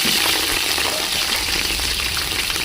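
Dried red chillies, green chillies and other tempering spices hit hot oil, giving a loud, dense, hissing sizzle that holds steady throughout and sounds close.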